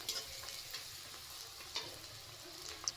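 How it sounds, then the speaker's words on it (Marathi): Chopped onion mixture for kanda poha fries in hot oil, a soft continuous sizzle under quiet spatula stirring, punctuated by a few faint clicks of utensil against the pan. "तेलामध्ये भाजायचं आहे."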